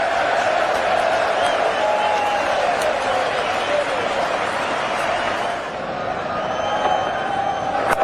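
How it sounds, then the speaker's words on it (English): A large cricket crowd at an Ashes match roaring after a six, a dense, sustained wash of cheering and whooping that stays loud throughout, dipping briefly near the end, with a commentator speaking over it. "The crowd are loving it."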